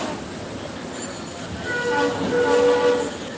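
A train pulls into a station, a steady rumble of wheels and carriages close by that swells louder toward the end, with faint tonal squeals and hints of a horn over the noise.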